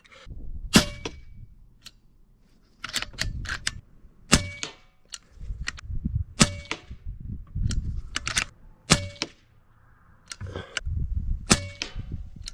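AEA HP MAX .357 airgun firing pellets outdoors, about a dozen sharp cracking shots spaced a second or two apart, each with a short metallic ring and clatter in between.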